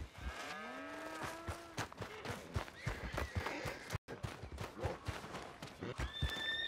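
Horse whinnies in the Western video game Red Dead Redemption 2, a rising then falling neigh near the start, amid lowing cattle, hoof clops and general farm-yard bustle with a few other animal calls.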